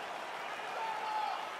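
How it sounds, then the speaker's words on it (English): Crowd cheering in the video game EA Sports UFC 3 as a fight begins, a steady, moderately quiet arena roar that holds evenly throughout, with a single voice rising briefly over the middle. "crowd getting excited as this fight gets underway"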